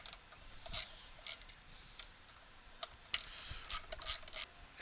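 Plate adjustment on a Bauer bandsaw is loosened, producing faint mechanical clicks and ratcheting ticks in short irregular bursts, close by, over quiet background.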